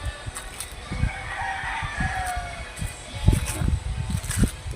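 A rooster crows among chickens at a gamefowl farm, its call rising from the background while hens cluck and other birds call intermittently, moderately distant with light talk nearby.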